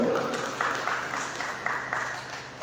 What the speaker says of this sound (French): Je demande au public d'applaudir encore une fois son Excellence